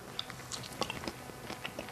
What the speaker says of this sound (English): I'm actually gonna take a taste of this dragon fruit